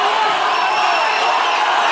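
Boxing arena crowd chanting for the boxer Fano during a bout against Ryan Daye, a loud, steady massed roar of voices with no distinct breaks.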